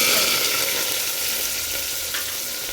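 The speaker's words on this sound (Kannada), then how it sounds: "ಎಣ್ಣೆ ಕಾಯ್ದ ನಂತರ ಒಂದು ಸ್ಪೂನ್ ಸಾಸಿ ಜೀರಿಗೆ ಹಾಕಿಕೊಳ್ಳಿ ನಂತರ ಎರಡು ಹೆಚ್ಚಿಟ್ಟುಕೊಂಡಿರುವ ಈರುಳ್ಳಿಯನ್ನು" Chopped onions hiss in hot oil with mustard seeds and cumin, a close, steady sizzle that fades slightly over time, with one brief stirring scrape near the end and no voices.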